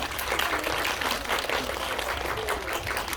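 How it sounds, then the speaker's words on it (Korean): Cinema audience at a CGV Mokdong stage greeting for Decision to Leave applauding, a full, continuous roar of many hands clapping that holds steady throughout. "박수 부탁드릴게요"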